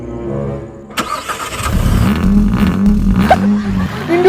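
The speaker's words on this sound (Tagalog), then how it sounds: "Induto na ni tingog ni Ninja 1000 bay" Kawasaki Ninja 1000 motorcycle engine catching with a sharp burst and then idling in a loud, low rumble up close, with some faint handling noise over it.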